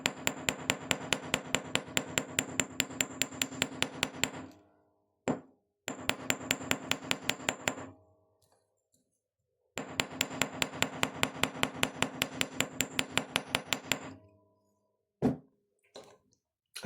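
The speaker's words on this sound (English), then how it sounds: "So by hammering it, it makes it a bit flatter" Metal wire is hammered flat for a wire-wrapped planet pendant in rapid, sharp metallic taps, delivered in three long bursts separated by short pauses, with a few isolated strikes near the end.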